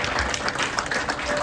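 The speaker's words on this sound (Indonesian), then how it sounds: "Boleh kasih tepuk tangan yang luar biasa buat Tuhan" A church congregation applauds during a service, a steady, dense wash of clapping throughout the brief moment.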